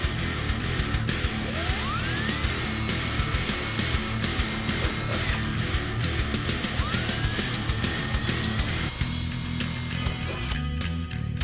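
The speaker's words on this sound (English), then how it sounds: "I have a drill stop I'm using on my drill" Power drill boring pilot holes through a 2015-2023 Ford Mustang trunk lid with a drill stop fitted for a Roush rear spoiler, close and loud with whining bursts and brief pauses between holes.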